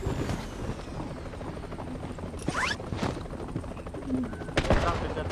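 A helicopter in a shooter video game keeps up a steady rotor drone through the whole stretch, joined by bursts of gunfire and shrill effects, with players talking over it.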